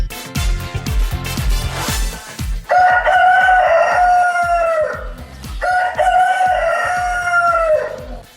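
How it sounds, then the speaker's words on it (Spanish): A rooster crows twice, loud and close, the two long cock-a-doodle-doo calls coming over a rhythmic music bed used as a Monday-morning wake-up effect on a talk radio show. "Este despertar del gallo que tenemos todos los lunes a estas horas"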